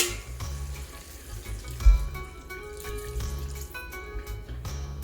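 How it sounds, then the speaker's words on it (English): Water running from a tap and splashing into a pot of Jamaican curry chicken, a steady close faucet stream with a brief clunk partway through and light sizzling beneath. "now I'm going to go ahead and add more water."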